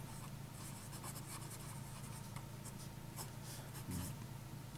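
A Waterman Exception fountain pen with a medium nib scratches across paper in soft, steady strokes, quiet and close, with a faint low thump near the end and no speech.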